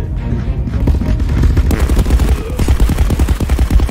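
Rapid gunfire from a VR shooter game crackles in dense overlapping bursts, loud and continuous, with sharp repeated shots accelerating toward the end.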